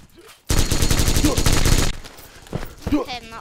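Rapid fully automatic minigun fire from a video game, a loud dense burst lasting over a second, followed by a few scattered shots and quieter game sounds.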